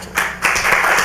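Audience applause for a keynote speaker at an education conference, a short burst of close clapping that swells after a brief pause.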